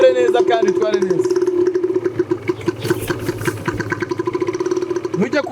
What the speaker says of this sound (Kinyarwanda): ngaho rero ngira uhagurutse moto uyitware neza kandi itware neza